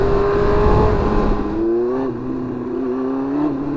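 A Yamaha R1 sport motorcycle with a freshly sorted clutch revs on a highway, a steady loud engine drone that dips and then climbs in pitch as it accelerates, with wind rush throughout.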